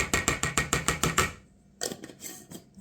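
A clothes dryer running in a home kitchen gives off a rapid, regular series of loud clanking knocks, then goes quiet for a moment before a few more irregular thumps.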